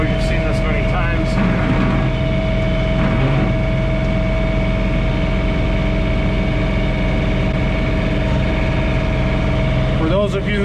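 A John Deere 3046R compact tractor with a 46 hp Yanmar engine runs at a steady idle during snowblowing, giving a constant low drone with tonal hum. A few brief knocks and voice-like bursts come and go over it.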